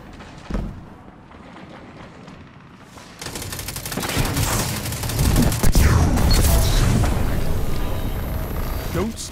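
Gunfire in the video game Destiny 2 during a Rumble match: quiet start with a lone shot, then sustained rapid fire and booming impacts build from about three seconds on, loud and continuous.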